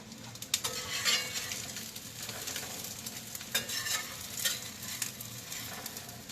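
French toast fries in butter in a pan, a close sizzle broken by scraping spatula strokes and light clinks of metal on the pan, with no talk.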